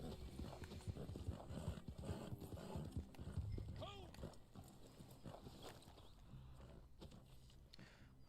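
A horse clip-clops along in Red Dead Online, its hooves sounding a quick, uneven rhythm at close range while people talk over it throughout.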